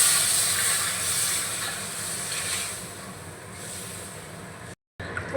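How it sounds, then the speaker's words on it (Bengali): Water poured into a pan of hot fried spice masala gives a loud broad hissing sizzle that slowly eases, with no talking. "তো এবার আমি দিয়ে দেব পরিমাণ মতো জল।"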